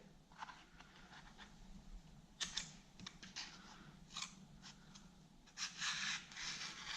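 Scissors cutting lining paper along a crease near a light switch, heard as a series of short, crisp snips and paper rustles, close and fairly quiet, arriving in irregular bursts.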